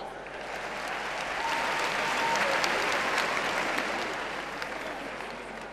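Audience applause for Abobo at a comedy show, a sustained wash of many hands clapping that swells in the middle and tapers off over several seconds.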